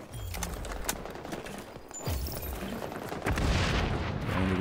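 A grenade blast in the video game XDefiant, heard amid steady battle noise and scattered gunfire, with a broad loud burst swelling late and continuing to the end.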